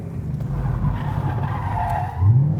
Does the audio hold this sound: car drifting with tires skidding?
yes